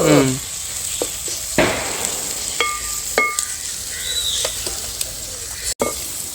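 Fenugreek and mustard seeds sizzling in hot oil for a bird's eye chilli pickle, a loud close hiss with sharp pops and clinks of stirring scattered through.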